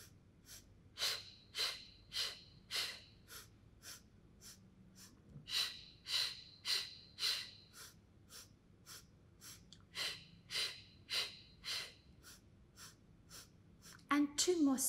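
Deep rhythmic breathing during a Pilates mat exercise, close and clear, with repeated sharp inhales and exhales in steady groups and brief pauses between sets.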